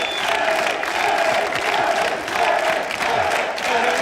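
A crowd at a televised wrestling match roars and cheers in a continuous wash of noise, with swells of shouting rising and falling over a few seconds.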